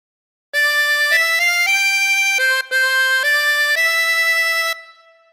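A harmonica plays a short phrase of Hark the Herald Angels Sing, using breathing in and blowing through holes 4 and 5 with bends, as a run of bright, reedy sustained notes with one brief break, close and loud with no talking.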